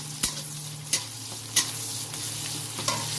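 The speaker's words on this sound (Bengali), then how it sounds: "লাল লাল করে ভাজা হয়ে গেছে পেঁয়াজটা" Chopped onions and green chillies sizzle steadily in a pan while a spoon stirs them, with crisp scraping knocks about every half second over the constant frying hiss.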